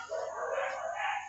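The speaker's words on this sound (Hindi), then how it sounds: "बच्चों देखिए कुत्ते बहुत ज़्यादा भौंक रहे" A dog's drawn-out whining bark or howl rises and falls over about a second, heard faintly from a distance in a quiet room.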